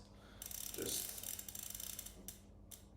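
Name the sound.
tightening bicycle hub end caps with 5mm hex keys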